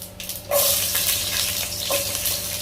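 Mustard seeds hit hot oil for a chicken curry and set off a sudden loud sizzle that carries on crackling near at hand, with a second burst of spattering a moment later.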